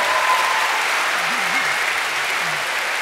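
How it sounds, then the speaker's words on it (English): Steady, dense applause from an audience at a Q&A with astronauts Tim Peake and Tim Kopra, a loud continuous wash of clapping that fills the hall from start to finish. "can we just give them both a huge round of applause for being here?"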